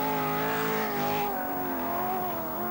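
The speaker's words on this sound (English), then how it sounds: "This car has been specially built for the Paris to Peking long-distance rally." A rally car built for the Paris to Peking long-distance rally runs at the 1982 Welsh Rally Sprint, its engine holding a loud, steady, high-revving drone throughout with no breaks.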